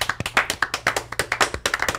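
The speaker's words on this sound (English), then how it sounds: "give a really obnoxiously loud round of applause" A round of hand claps, fast and irregular, many sharp slaps close together with no voices, loud and lively.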